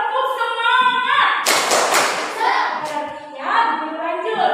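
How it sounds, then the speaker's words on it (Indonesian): Hands clapping in a classroom cheer, a burst of quick claps mixed with chanting voices that carry a sing-song tune. "ayo tepuk semangat"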